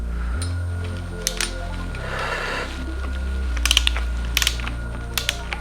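A torque wrench tightening a nut on a Yamaha YFZ450R engine during a full engine build, sharp metallic ratchet clicks in short bursts over a low steady background hum, close and alone.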